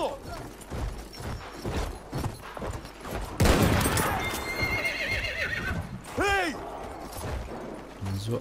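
Horse neighing in the World War I shooter Battlefield 1, cavalry hooves clip-clopping with distant gunfire, then a loud sharp whinny near the end, with someone talking intermittently.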